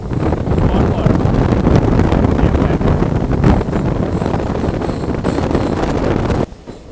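Strong wind roars past a train crossing a large barrage on the Kolkata to New Jalpaiguri line, a constant loud rushing mixed with the rumble of the carriages, ending with a sudden drop in level.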